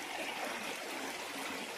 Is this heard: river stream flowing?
yes